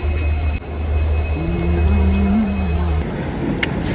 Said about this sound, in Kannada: waiting for arriving the train